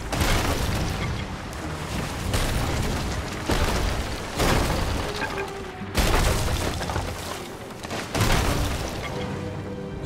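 Ship cannons fire in the pirate game Sea of Thieves as a series of heavy, loud booms, roughly one every second or two, each ringing out over a continuous rumbling sea-battle backdrop.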